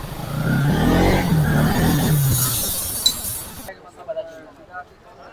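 A 2017 Bajaj Pulsar NS200 motorcycle engine idles with a low, steady rumble for a few seconds, then cuts off, leaving faint scattered clicks.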